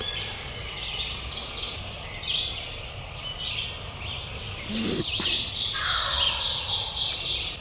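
A wild turkey gobbles once, a short rattling burst partway through, heard at a distance amid a dense chorus of songbirds chirping and trilling in the woods at dawn.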